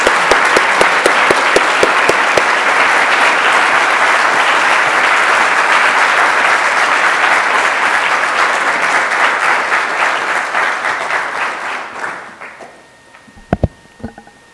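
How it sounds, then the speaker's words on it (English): A large room of new medical students at a white-coat welcome ceremony breaks into sustained, loud applause that slowly thins out toward the end, leaving a few scattered claps. "Give yourselves a round of applause."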